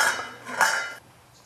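Chopped pumpkin pieces tumble into a cooking pot with a short clatter, a quick burst of clinks followed by a second brief rattle, close and clear with no talking.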